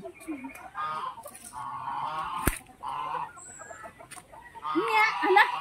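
Geese honking and clucking on a farm, several close bursts of nasal calls in a loose rhythm with brief pauses, plus a sharp knock and faint voices nearby.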